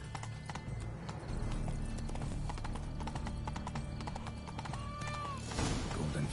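Horse hooves clip-clopping at a steady trot in the Witcher 3 Blood and Wine game, close and rhythmic, with a brief whinny-like tone and faint game sounds underneath.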